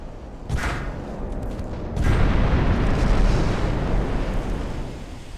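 Destroyer guns firing in the naval battle game Ultimate Admiral: Dreadnoughts, a sharp boom followed by another blast and a sustained rumbling roar of gunfire that swells and slowly fades.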